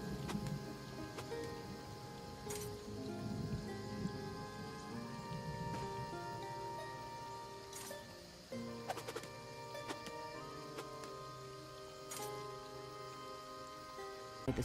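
Rainstorm in the video game Elder Scrolls Online: steady hiss of rain, broad and continuous, with a low rumbling bed and occasional sharp clicks, fairly soft throughout, no talk.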